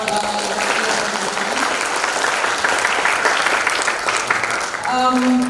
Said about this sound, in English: give a big applause for